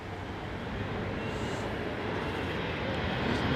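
An airplane at London Heathrow Airport during Storm Éowyn gives a steady, loud broadband engine roar that holds throughout and swells slightly toward the end, with no talking.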